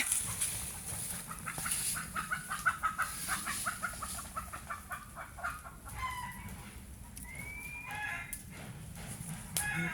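Chickens cluck and murmur in a farmyard, several birds close by in a loose, irregular stream of calls, with a faint rooster-like note and other bird cries scattered in the background.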